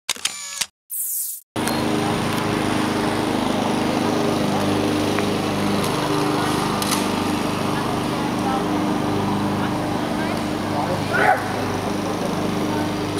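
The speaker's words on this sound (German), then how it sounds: "der königliche Rasen muss gemäht werden von ganz normalen Menschen" A lawn mower drones steadily and loudly across the royal lawn at the Tower of London. The engine noise is broad and constant after a brief gap at the start, with faint background sounds over it.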